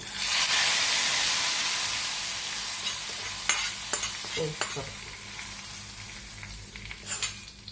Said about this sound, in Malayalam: അതേ കടുക് പൊട്ടിച്ച് ഞാൻ ഇതിലേക്ക് ഒഴിക്കുക